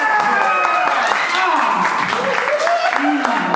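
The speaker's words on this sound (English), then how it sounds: "Oh, applause break?" A stand-up comedy audience claps and cheers in a steady wash of applause, with a voice talking over the top of it throughout.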